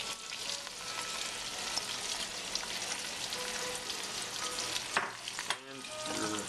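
Onions and peppers sizzle steadily in a pot for sweet potato soup, a dense continuous frying hiss with a few faint stirring clinks near the end.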